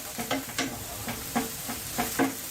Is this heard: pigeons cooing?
no